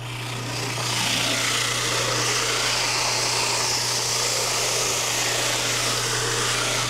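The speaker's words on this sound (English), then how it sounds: "I'm going to sand this long taper with a piece of 60 grit" Coarse 60 grit sandpaper pressed against a long wooden baluster taper spinning on a wood lathe, a steady loud broadband hiss and rub over a constant motor hum, continuous for several seconds with no talking.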